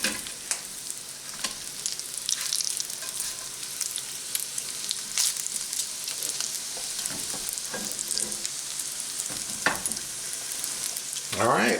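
Taco shells crisp in hot oil in a pan, giving a continuous close sizzle and crackle with scattered sharp spatters and spatula scrapes, and no talking.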